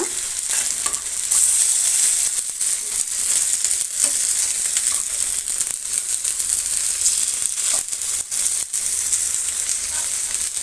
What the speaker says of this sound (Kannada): ಬೇಗನೆ ಫ್ರೈ ಆಗಿಬಿಡುತ್ತೆ ಫ್ರೆಂಡ್ಸ್ ಫಿಶ್ ಫ್ರೈ ತುಂಬಾ ಚೆನ್ನಾಗಿರುತ್ತೆ